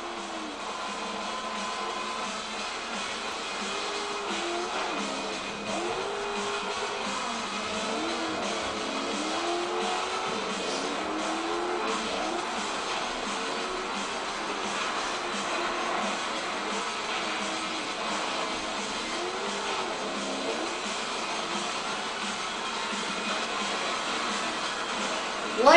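Engines rev and roar steadily in the MotorStorm demo racing game, wavering pitches of several off-road vehicles racing at once, loud and continuous for the whole stretch, with faint voice underneath.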